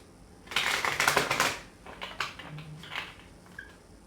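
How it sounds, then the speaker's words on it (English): A burst of crisp riffling as a tarot deck is shuffled, followed by a few softer flicks and taps. "One more shuffle."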